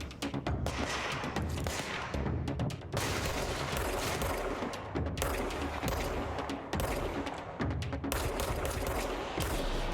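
Gunfire in the action game Control, a loud, close string of sharp shots and bursts fired in rapid clusters with brief pauses between volleys.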